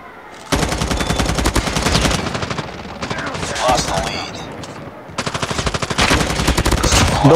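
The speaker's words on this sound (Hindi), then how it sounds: "आवाज तो आ रही है इस गोलियां पड़ने की" Rapid bursts of automatic gunfire rattle loudly in long sustained volleys with brief pauses between them, with a clear synthetic game-like quality, from Call of Duty gameplay.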